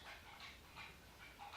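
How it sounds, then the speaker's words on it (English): A dog laps water from a bowl in a quiet indoor setting, giving soft, steady wet laps repeated every fraction of a second, faint and close, with no voices. "now my dog's drinking water"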